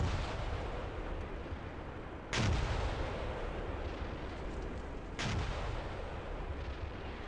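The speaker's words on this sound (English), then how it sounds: "they called an artillery strike on me" Two heavy artillery explosions boom in a war video game, about three seconds apart, each a sudden loud blast over a constant rumbling battlefield din with no talking.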